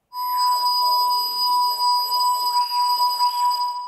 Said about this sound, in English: And similarly, we also have this bit crush control.